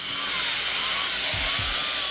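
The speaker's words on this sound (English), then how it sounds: "And of course, the major one is the chainsaw." A chainsaw carving wood drones steadily and loudly for the whole moment, a continuous high buzzing with no talk.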